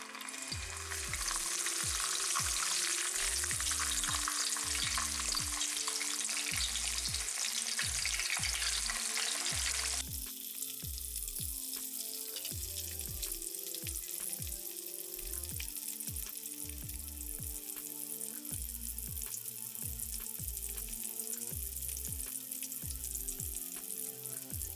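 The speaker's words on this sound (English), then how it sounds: "when they start to sizzle a little tiny bit, you know it's time to add the fish" Panko breadcrumbs sizzle in hot oil while frying for fish, a dense, steady crackle close by that softens partway through, with scattered small pops and stirring sounds underneath.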